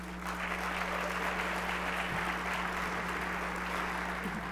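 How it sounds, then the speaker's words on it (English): Audience at a South by Southwest Interactive 2014 session in Austin claps steadily, a dense even round of applause over a faint constant electrical hum. "Give yourself a big, big round of applause"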